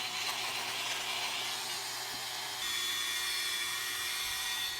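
A rotary polishing wheel grinds curb rash scratches out of an aluminum car wheel at low speed, giving a steady whirring, abrasive hum that rises slightly partway through, close and continuous without talk.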